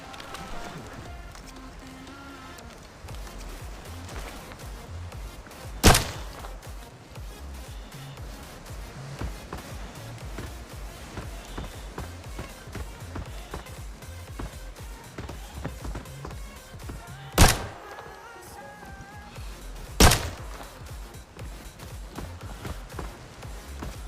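Three sharp, isolated gunshots ring out in the Arena Breakout shooter, one near the start and two close together later, over continuous footsteps and running.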